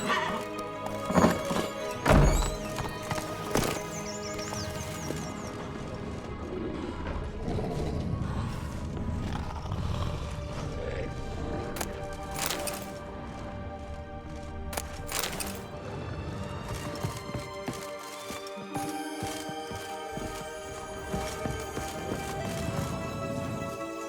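Hooves of the horse Roach clip-clop in The Witcher 3: Blood and Wine, a rhythmic gallop with a heavy thud early on, under music and game ambience.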